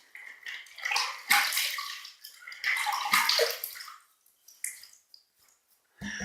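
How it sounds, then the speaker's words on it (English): Tap water runs and splashes in short bursts as a face is wetted before a shave, close and fairly quiet, with pauses and drips between the bursts. "let's wet the face"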